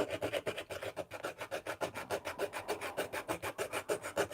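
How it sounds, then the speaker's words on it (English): A saw cuts through a plastic model kit part for a Warlord Titan in rapid, steady back-and-forth strokes, about six per second, each stroke a harsh rasp heard up close with no talking. "A lot of sawing today."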